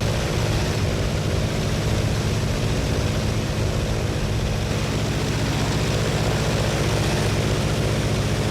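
Steady, loud drone of a P-47 Thunderbolt warbird's radial engine and propeller in flight, heard from inside the aircraft with a constant low rumble and no letup.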